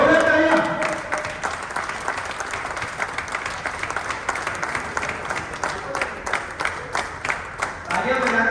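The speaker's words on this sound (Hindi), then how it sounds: "जोरदार तालियां।" Audience applause at a campus event at XLRI, steady dense clapping across the whole stretch, fairly loud, with some voices mixed in near the start and end.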